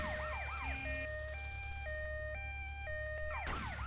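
Ambulance sirens in Grand Theft Auto Vice City wail in rising and falling sweeps, then switch to a steady two-tone high-low alternation before the wail returns, loud and continuous with no talking.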